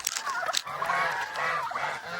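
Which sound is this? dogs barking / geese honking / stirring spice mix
geese honking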